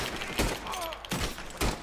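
Three sharp pistol shots spaced roughly half a second apart, fired in the Western video game Red Dead Redemption 2, each a short, punchy crack over a steady background of game ambience.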